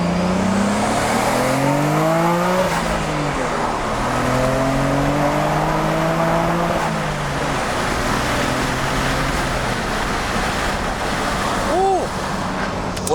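A Nissan Skyline GT-R R33 LM with an N1 exhaust revs repeatedly, engine pitch climbing and falling in several sweeps before settling into a steady rumble, moderately loud and close, with a brief chirp near the end.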